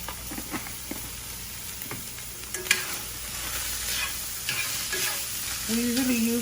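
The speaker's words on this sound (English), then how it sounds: "Now that the water has evaporated, we're gonna go ahead and let it fry a little bit." Beef stir fry frying in a pan, a steady crackling sizzle with occasional utensil scrapes and taps, close and moderately loud, with no talking.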